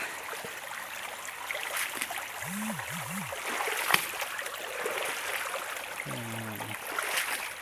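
Cool stream water flows steadily at a waterfall near Ban Khok Ta Sing in Buriram, Thailand, a soft continuous wash of running water with a few faint birdlike chirps over it.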